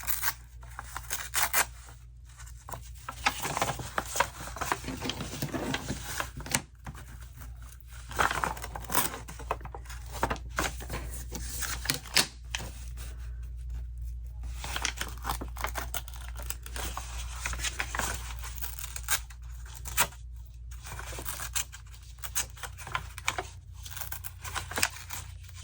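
Scissors cutting through a kraft paper bag: close, steady crisp snipping and paper rustling in repeated runs with brief pauses, lasting throughout, with no voices.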